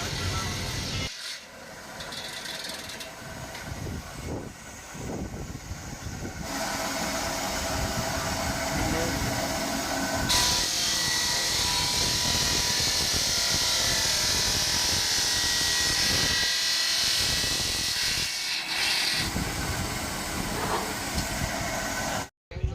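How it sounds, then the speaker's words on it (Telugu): A machine cuts stone slabs at a Betamcharla quarry. A loud, continuous grinding rasp with a harsh high edge carries on for long stretches, broken by brief drops, and a voice talks over part of it. "ఇప్పుడైతే స్టోన్ కట్టింగ్ అయితే చూడండి. మెషిన్ చాలా సూపర్గా అయితే కట్ చేస్తుంది."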